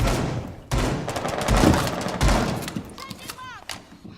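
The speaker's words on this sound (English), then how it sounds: "You can use this shotgun, of course, for creating holes, for helping out allies." Shotgun blasts in the video game Rainbow Six Siege, with several loud booming shots in quick succession, close up, followed by sharp ringing debris and clatter, and a voice talking underneath.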